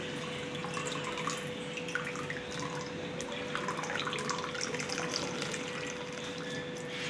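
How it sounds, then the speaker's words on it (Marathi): Water trickles and drains steadily from curdled milk at a low level, a quiet continuous pour with no voices. "आता ह्याच्यातलं जे एक्स्ट्राचं पाणी आहे ते काढून घ्यायचं आहे"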